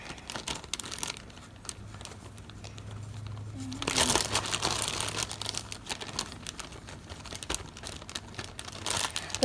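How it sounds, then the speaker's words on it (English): Paper being torn and crumpled into small pieces for making paper clay, heard as soft crinkling at first, then a louder, steady stretch of dense rustling and tearing from about the middle onward. "just get into breaking up the paper"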